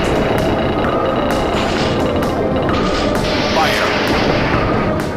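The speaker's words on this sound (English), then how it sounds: "Fire torpedo!" Submarine torpedo launches in the video game Steel Diver Sub Wars: repeated loud booming blasts and crashing impacts over a dense, rumbling underwater din, with a person talking throughout.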